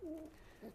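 A crossbred pigeon gives a brief low coo, a short rising-falling call followed by a second shorter one, faint and close.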